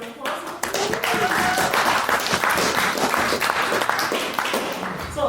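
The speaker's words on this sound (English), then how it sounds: "We'll leave another round of applause." A debate audience gives a round of applause, a brisk layer of many hands clapping with sharp individual claps standing out, steady and fairly close throughout.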